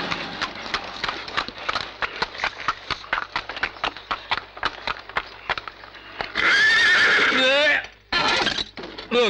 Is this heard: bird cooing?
no